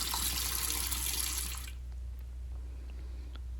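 Water runs steadily into a bathroom sink and drains past a loose pop-up stopper, a close, even rush that stops after about two seconds and leaves faint drips.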